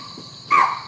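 A spotted deer in the wild gives one sharp, short alarm call, clear and fairly close, rising over a steady background hum of insects or wind.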